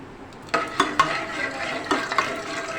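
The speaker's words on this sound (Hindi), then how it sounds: "इसको हल्का सा हम फ्राई करेंगे घी में" Whole spices, green cardamom, cloves and cinnamon, frying in ghee in a pan, with a soft sizzle beneath several clinking stirs of a utensil against the pot.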